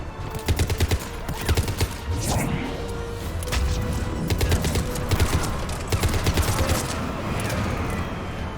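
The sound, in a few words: enemy gunfire in Mass Effect 3 video game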